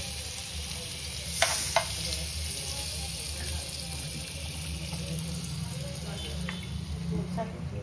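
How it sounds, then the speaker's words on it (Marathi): Butter melts and sizzles in a spoonful of mustard oil in a pan, a steady close crackle with a couple of sharp utensil clicks near the start. "त्यात थोडासा बटर टाकला"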